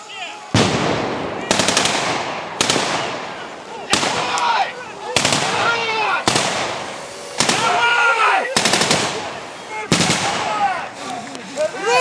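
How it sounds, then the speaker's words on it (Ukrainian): Machine gun fire at a military training exercise, with repeated loud, close bursts of rapid shots in uneven rhythm, echoing rolls in between, and voices heard between bursts. "Група рухається, їх починають обстрілювати кулемет і зараз скиди."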